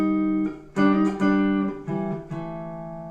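Guitar double stops forming a minor sixth interval, a few plucked two-note chords struck one after another, each ringing clearly and fading, played alone.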